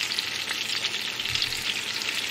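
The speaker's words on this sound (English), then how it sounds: "Wait, why are you frying them?" Meatballs fry in a large pot, giving a loud, continuous sizzle with faint stirring underneath and no talking.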